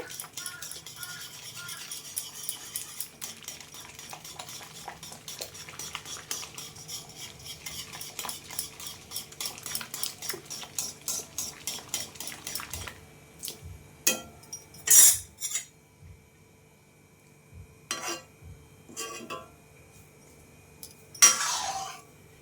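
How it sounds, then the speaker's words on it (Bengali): Cooked red lentils with banana stem are worked in a pot with a utensil, giving rhythmic scraping and stirring strokes that grow sparser, ending in a few separate clanks and scrapes against the pot. "ডালটাকে একটু ঘুটে নিতে হবে"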